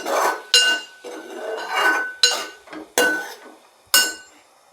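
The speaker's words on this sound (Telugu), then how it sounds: "మనం ఒకసారి మిక్స్ చేసుకుంటే ఇంకా సైడ్కున్న మసాలా అంతా నూడిల్స్కి పట్టేస్తుంది" A metal utensil scrapes and clanks against a pan as Yippee noodles are stirred with masala, giving repeated loud close strokes in an uneven rhythm with no talk.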